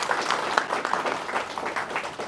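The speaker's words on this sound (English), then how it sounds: "Can we have a huge round of applause for them," Applause from an audience at an institute's award ceremony honouring young Olympiad achievers: a dense, steady wash of many hands clapping together, sustained and fairly loud for the whole stretch, with no voices standing out.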